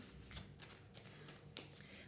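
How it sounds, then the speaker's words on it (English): Quiet riffling and flicking of a deck of cards being shuffled, soft papery ripples with a couple of sharper snaps, close by and alone. "I'm going to shuffle and see what cards come out for us today."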